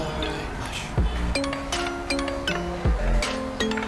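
Hair developer is poured into a bowl with bright clinks and pinging taps of a utensil against the container, repeating in short irregular strikes over a dull background, close by.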